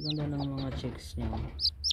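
Newborn baby chicks from a home breeding setup peep in short high-pitched chirps scattered through the clip, close by and mixed under a person talking.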